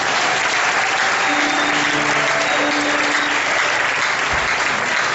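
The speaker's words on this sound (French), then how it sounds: "Est-ce qu'on peut acclamer le Seigneur?" A church congregation breaks into loud, sustained applause, a steady wash of clapping from many hands filling the room throughout.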